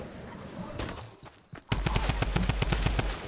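Rapid automatic gunfire in a Fortnite match, a quieter burst first, then after a short pause a loud, steady stream of evenly spaced shots that runs to the end.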